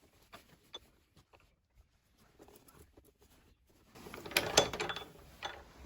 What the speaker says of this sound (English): I'm just going to pop it into my rolling mill